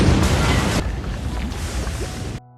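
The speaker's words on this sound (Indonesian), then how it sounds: "tiba-tiba muncul ledakan yang membuat mereka terpisah di lorong" A heavy, rumbling explosion from the 2021 animated film Nezha Reborn bursts loud at once, then dies into a rolling low roar with scattered debris before cutting off abruptly.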